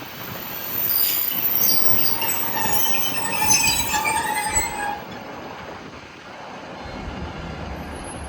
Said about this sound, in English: our next service down to Stranraer rolled into the platform in the form of another Class 156